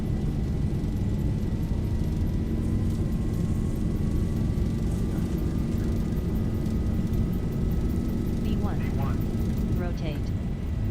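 Jet engines of a Boeing 737 roar steadily at takeoff thrust in a flight simulator, a dense continuous rumble with a faint rising whine, with voices speaking briefly over it near the end.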